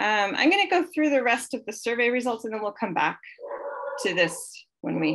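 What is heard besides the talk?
dog barking and whimpering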